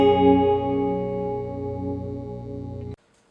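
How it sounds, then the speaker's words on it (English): An electric guitar chord rings through a TC Electronic Corona Mini Chorus pedal, its shimmering, wavering tone sustaining loud and alone for about three seconds before cutting off abruptly. "Most people, when they think of chorus, they hear something like this."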